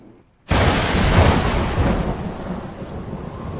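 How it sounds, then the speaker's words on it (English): A thunderstorm breaks out of near silence with a loud, sudden thunder crash, then rolls on as a broad, heavy roar of thunder and pouring rain that slowly fades over a few seconds. "it started raining and the plan was ruined"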